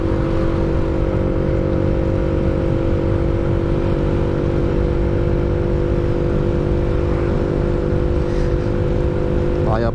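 A small Yamaha motorcycle ridden on a road early on a cold morning, with a steady, loud engine drone and wind rush throughout and a voice talking over it.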